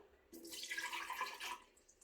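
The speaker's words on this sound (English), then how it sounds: "I'm going to add some liquid to this, and I'm starting off with some coconut water" A soft, brief splashing pour of coconut water into a blender, lasting about a second and a half, quiet and close.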